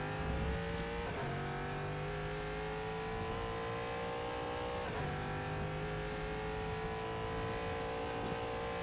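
A GTE race car in the rFactor 2 racing game drives steadily with a loud, continuous engine tone that rises and falls with gear changes, occasionally jolting over track bumps, with no talk over it.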